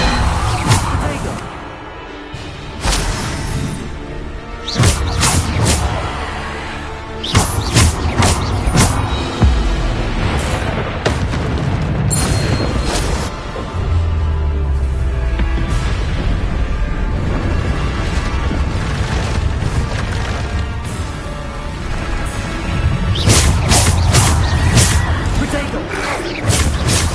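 Bombarda blasting spells go off in the video game Hogwarts Legacy, a string of sharp booming explosions with whooshes and rumbling combat noise throughout, while voices and spell shouts come and go.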